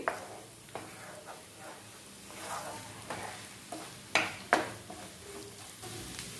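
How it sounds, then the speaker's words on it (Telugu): Egg frying and being stirred in an iron pan for cabbage egg fried rice: a steady sizzle under repeated scraping strokes, with a couple of sharper clatters from the spatula against the pan. "మనం కలుపుతూ ఉండాలి, లేకపోతే ప్యాన్ అంతా మాడిపోతుంది అండ్ అంటుకుపోతుంది కదా"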